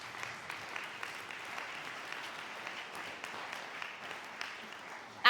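An audience clapping at a public gathering, a steady spread of applause from many hands that holds at an even level throughout, moderately close, ending in a sudden loud burst.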